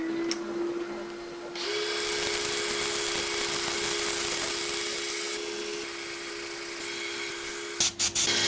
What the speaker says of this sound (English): We're going to quickly start sanding now.